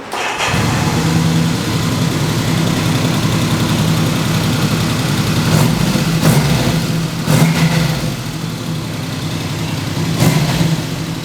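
A Honda CB750 three-cylinder motorcycle engine runs steadily near idle, close and loud, with a few short throttle blips rising above its even drone. No one speaks.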